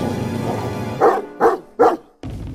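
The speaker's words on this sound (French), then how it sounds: "aboya le chiot" A puppy barks three times in quick succession, close and fairly loud, with short sharp yaps standing alone against a quiet background.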